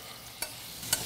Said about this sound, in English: I'm gonna baste the lobster meat with my oil